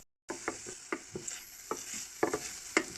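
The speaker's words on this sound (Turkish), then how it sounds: "tencerede erittiğim tereyağıyla birlikte karıştırdım." Rice is stirred with melted butter in a pot with a spoon, giving a series of soft scraping clicks at an irregular pace under a faint sizzle.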